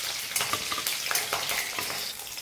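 Green chillies fry in oil with an even sizzle, punctuated by irregular crackles and pops as they spit in the pan, fairly close and alone.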